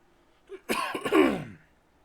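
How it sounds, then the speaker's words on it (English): A single harsh cough close to the microphone, rough and throaty, followed by a short rasping tail, with quiet around it. "Sorry for that cough."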